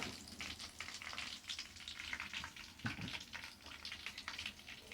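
Pompano fish frying in hot oil crackles and spits in close, irregular bursts, with a sharper pop near the middle and a steady sizzle underneath.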